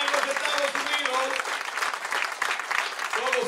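An audience applauds at a televised event, with dense clapping throughout and someone talking over it.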